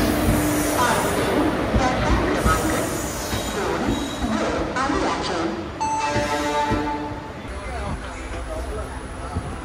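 Passenger train at a station on the way to Goa, rumbling and clattering close by with a few brief metallic squeals, while people talk over it.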